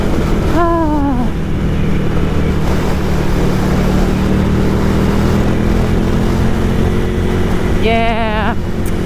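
A Ducati Scrambler motorcycle ridden on the road: a loud, steady engine drone with wind rush throughout, and rising revs heard twice as the rider accelerates.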